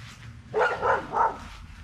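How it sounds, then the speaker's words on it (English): Dogs barking in a garden setting on a mid-July day, a few quick bursts clustered together at moderate distance, with no talk over them. "For some reason, we have barking dogs."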